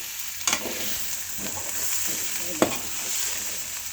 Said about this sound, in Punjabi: ਅਸੀਂ ਇਹਦੇ ਵਿੱਚ ਆਪਣੇ ਜਿਹੜੇ ਕਰੇਲੇ ਨੇ ਅਸੀਂ ਇਸੇ ਤਰੀਕੇ ਪਾ ਦਵਾਂਗੇ ਅਸੀਂ ਭਰਨੇ ਨਹੀਂ ਅਜੇ ਇਸੇ ਤਰੀਕੇ ਪਾ ਦਾਂਗੇ ਤੇ ਇਹਨਾਂ ਨੂੰ ਚੰਗੀ ਤਰ੍ਹਾਂ ਹਿਲਾ ਦਾਂਗੇ